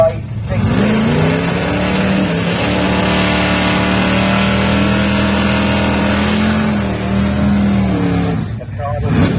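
A classic late-1960s Chevy Chevelle drag race car, the Russo's Rat, with its engine revving loud and close, a rising then sustained roar that drops off sharply near the end, with announcer talk over it.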